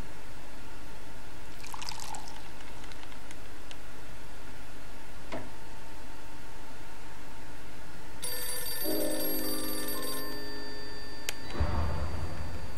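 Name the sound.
telephone ringing in video game Blues and Bullets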